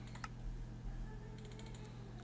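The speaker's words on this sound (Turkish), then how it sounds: "Şöyle basarken falan çok ses yapıyor. Yeni bir klavye almayı düşünüyorum." Keys clatter on a noisy computer keyboard in quick, scattered bursts, moderately close, over a steady low electrical hum.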